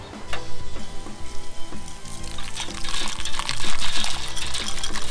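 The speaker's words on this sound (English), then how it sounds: "I'm gonna add my hops and then I'm gonna start stirring so it cools" Hot wort with hops is stirred in a home brewing kettle as it cools, producing a sloshing, swirling liquid sound in uneven pulses close by, over soft background music.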